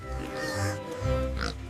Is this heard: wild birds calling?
no